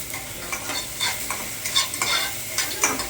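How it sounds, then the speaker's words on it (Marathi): Garlic frying in a pan while being stirred, crisp sizzling broken by repeated scraping strokes of a spoon at an uneven rhythm, close and clear with no voices. "घातली लसूण ही आता परतली आहे थोडी"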